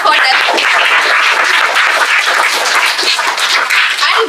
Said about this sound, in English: So give it up a huge round of applause for them.